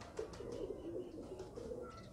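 A domestic pigeon coos softly in a few low, throaty pulses, faint and close in a quiet setting.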